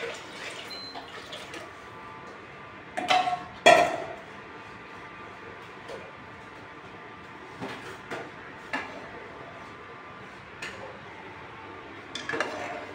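Two tumblers of water are poured into a pot of soaked rice, with a pair of clinks and a short splash of water, followed by quiet kitchen clatter and a few faint knocks.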